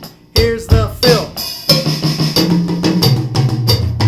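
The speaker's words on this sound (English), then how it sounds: "Okay, that's the drum fill." A drum fill rolls across rack tom and floor tom in a practice exercise: a quick run of resonant, pitched hits descending in tone, loud and close, with sustained ringing between strikes.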